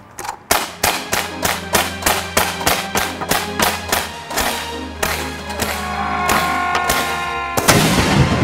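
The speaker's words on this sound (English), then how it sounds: "Launching that cannon was crazy." Cannon and gun blasts at a Civil War reenactment weekend at a mansion, a rapid regular series of sharp loud booms about two per second, ending in a sustained rumbling roar.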